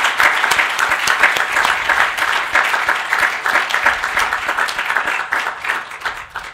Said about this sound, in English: Please let us give Elena a big round of applause.